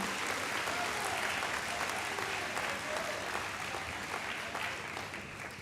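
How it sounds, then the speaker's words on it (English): A crowd claps steadily at the Salem High School Athletic Awards 2021. The dense, sustained applause runs the whole time and fades slightly at the end. "please give these guys a round of applause"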